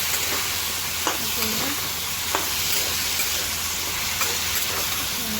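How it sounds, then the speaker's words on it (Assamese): Steady sizzle of jackfruit seeds frying in a pan, with occasional soft clicks and taps of a utensil; no talking. "কঁঠালৰ গুটি আৰু ৰঙালাও ভাজি বনাইছোঁ।"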